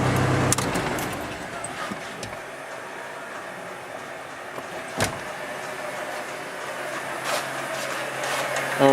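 A Jeep XJ with a 5-speed, its engine left idling after warming up, gives a steady low rumble throughout, broken by a few brief clicks and knocks nearby, with no talk.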